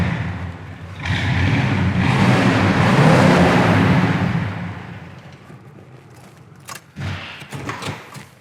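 A 1975 Camaro RS engine revs indoors into a loud, echoing roar that swells and slowly fades, followed by a few scattered thumps.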